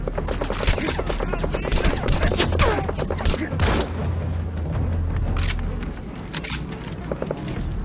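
Dense bursts of automatic and single gunshots with booming impacts and a few footsteps fill a firefight in the video game Metal Gear Solid 5: The Phantom Pain, loud and continuous throughout.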